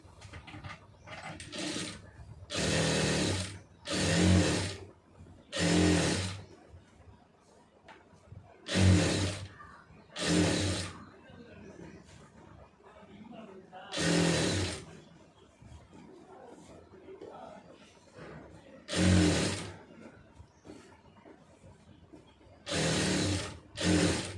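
A sewing machine stitches a pencil skirt, sewing back and forth in about ten short motor bursts with quiet pauses between them.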